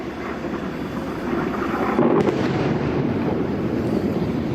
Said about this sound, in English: You hear that explosion?